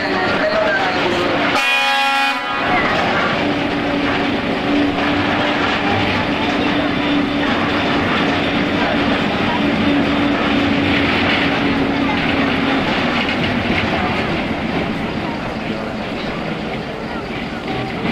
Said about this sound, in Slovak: Na pozdrav nám zatrúbil rušeň 781.